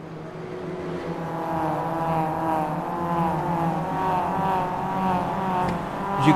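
A field of Mazda Cup race cars idles and revs together before the start of a racing video game at Okayama, a dense, continuous engine drone with a rising final blip.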